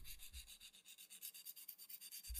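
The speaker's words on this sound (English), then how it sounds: "I'm going to file around the smile line just to make it super sharp." A nail file rubs back and forth along the smile line of a gel-and-acrylic-gel nail, quick, steady scratchy strokes repeating close up, with no talking.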